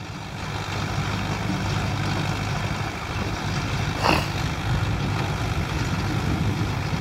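Zetor 6714 tractor tilling a dry field: a steady, low, rumbling diesel engine drone holds close and constant throughout, with no talk.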